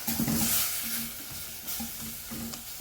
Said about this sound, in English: So we are going to break the tomatoes.